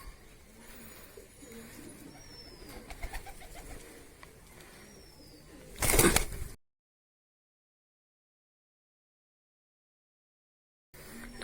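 Pigeons coo softly outdoors in a loft setting while a bird is being caught, the calls steady through the first six seconds before a brief louder rustle and then a long silence.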